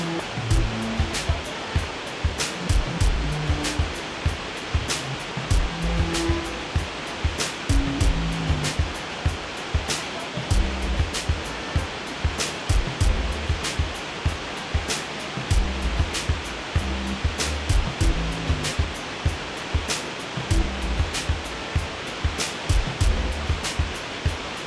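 Shifen Waterfall in Taiwan roars as a steady, broad rush of falling water, loud and continuous for the whole stretch with no voices.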